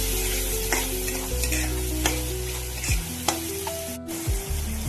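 Cluster beans sauté with turmeric in a pan, giving a constant sizzling hiss with a few spoon scrapes against the pan, no voices over it.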